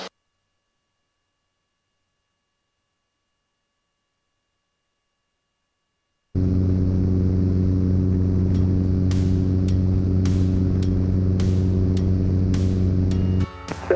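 Cessna 172 piston engine on takeoff toward LAX, a steady loud drone that starts abruptly after six seconds of silence, with faint clicks and ticks over the constant hum.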